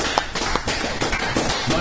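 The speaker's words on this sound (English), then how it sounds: "Keep clapping, god damn it." A few people clap unevenly, with sparse sharp slaps over a noisy room background, close and brief rather than full applause.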